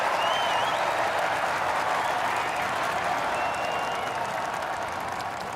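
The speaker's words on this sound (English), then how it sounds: "The crowd go wild." Crowd applause from the EA Sports Rory McIlroy PGA Tour golf video game: a steady, dense wash of clapping sustained for the whole stretch, fairly loud and with no talk over it.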